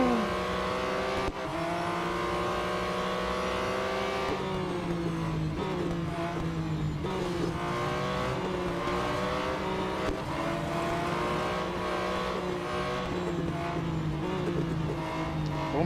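Race cars in the Real Racing 3 mobile game drone continuously, their engines whining up and down through gear changes at a steady, fairly loud level.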